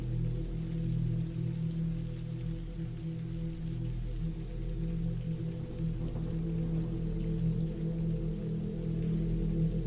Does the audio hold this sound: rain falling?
yes